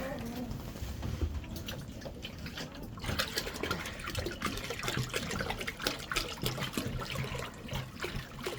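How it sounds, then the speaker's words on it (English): Water runs steadily into a bucket for chickens, a continuous splashing gush with some clatter, fairly quiet and unbroken throughout. "I want to fill up my water for them."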